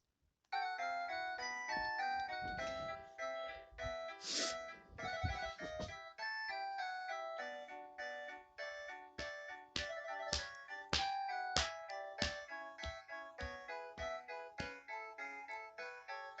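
A MIDI ringtone plays on a Samsung phone, a bright, chiming synthesized melody of quick repeated notes running continuously, moderately loud and alone.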